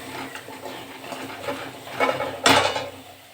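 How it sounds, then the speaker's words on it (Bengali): Taro leaves are stirred in a wok (kadai) over a gas flame, with scraping and clinking of the utensil against the metal, growing louder toward a sharp clatter near the end. "কচু শাকটা কড়াতে দিয়ে দিয়েছি, আমি এটা সিদ্ধ করে নেব। এটা আস্তে আস্তে এরকম নেড়ে দেবো।"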